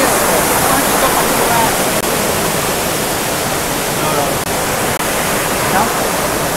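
Rushing water from a mountain spring at the Shivakunda temple in Amsoi, a loud dense hiss of flow that holds steady and close throughout, with no talk.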